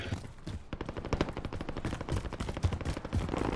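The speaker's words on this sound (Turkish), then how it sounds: "Etrafta çünkü silah sesi geliyor devamlı." Rapid bursts of gunfire crackle continuously in Call of Duty: Warzone, a dense fusillade of quick shots at moderate distance with no talking.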